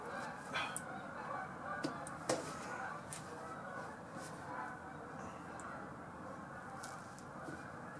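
Geese honking as they fly north, scattered distant honks rising above a steady low outdoor background, with occasional faint talk.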